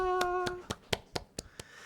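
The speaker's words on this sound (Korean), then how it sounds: "모두 박수." A few sparse hand claps, about seven separate claps at a slow uneven rhythm, follow a held tone as new first-year middle school students are welcomed during an online church worship service; fairly close, with no crowd behind them.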